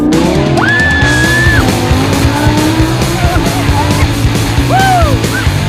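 A Lamborghini Aventador sports car accelerates hard, a loud close engine roar with sharp tire squeals cutting in near the start and again toward the end.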